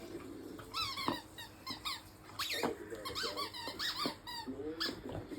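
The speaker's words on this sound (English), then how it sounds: "You got a squeaky ball?" A dog chews a new squeaky ball toy indoors late at night, producing a quick run of irregular, high-pitched squeaks close by, some in rapid bursts and others spaced apart, with no talking.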